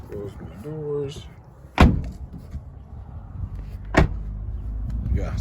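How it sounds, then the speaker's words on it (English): Two solid thuds of an old vehicle's doors being shut, about two seconds apart, close and fairly loud, with a voice briefly heard beforehand. "Close my doors."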